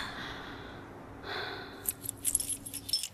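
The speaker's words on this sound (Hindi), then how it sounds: "ये चाबी रखो अपने पास" A bunch of keys jangles in a few quick, light clinking bursts near the end as they are handed over indoors, close and fairly quiet, with no one talking over them.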